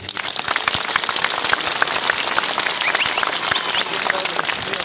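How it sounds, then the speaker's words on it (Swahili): A rally crowd applauds steadily for several seconds, a dense wash of clapping with a few voices mixed in. "kila mtu ajipigie makofi"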